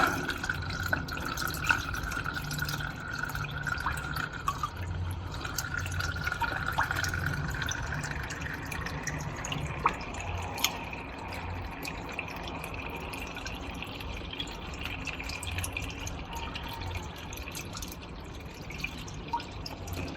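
Water runs steadily from a tap into a sink just unclogged with a plunger pump, a continuous splashing rush with a faintly rising pitch as it fills, close by and alone.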